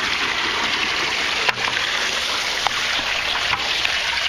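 Water pouring steadily into an aquaponics bucket, a continuous close splashing gush with a few small knocks and no talk.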